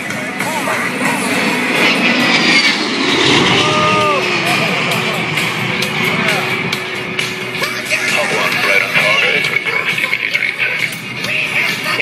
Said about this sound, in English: The A-10 is the premier close air support aircraft supporting our ground forces engagement.